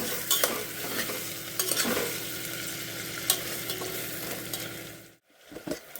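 Vegetables for bagara rice sizzle steadily in a hot pan, stirred now and then with scrapes and clinks, the frying loud and close before cutting off abruptly near the end and resuming faintly.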